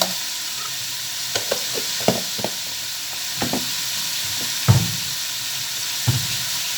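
Spring roll filling stir-fries in a hot pan with a constant soft sizzle, while a utensil stirs and scrapes through it in irregular knocks and clatters, close by and with no talking.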